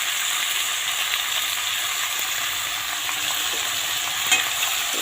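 Fish with salt and turmeric being stirred in a pan while cooking, as for a katla fish and cauliflower curry; a steady soft sizzle and scraping churn runs throughout, with no talking.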